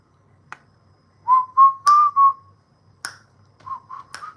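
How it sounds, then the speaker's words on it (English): A person whistles a short rising-and-falling tune of several clear notes, pausing briefly before a second phrase, close and alone with no talk. "Now I don't even want to whistle no more"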